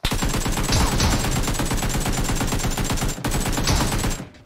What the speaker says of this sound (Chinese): 而远处的枪声依然此起彼伏